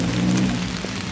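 Steady rain falling outdoors on a street in the NoDa neighborhood of Charlotte, North Carolina, a continuous close hiss of drops, fairly loud, with no talking.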